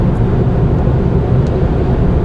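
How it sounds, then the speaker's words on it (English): Steady broadband wind rush around the mirror area of a 2013 BMW X1 sDrive 28i while driving, a continuous even roar with road hum underneath and no voices. "There is a bit of wind noise around the mirror area"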